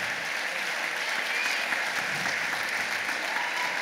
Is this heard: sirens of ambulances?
no